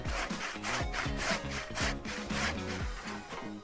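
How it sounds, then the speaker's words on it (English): Handsaw cutting through a wooden stair stringer: steady back-and-forth rasping strokes, roughly three per second, loud and close with no talk. "The last step is just finishing them off with a handsaw,"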